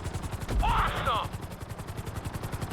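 A helicopter in Grand Theft Auto V thuds steadily with a rapid rotor chop, joined briefly near the start by a brighter whooshing swell, the rhythmic beat continuing evenly throughout.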